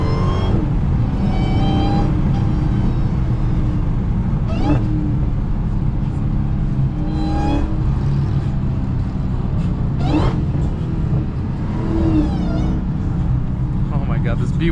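A widebody Dodge Challenger Hellcat accelerating in track mode on a canyon road, engine roaring and rising in repeated revving sweeps, with people talking over it.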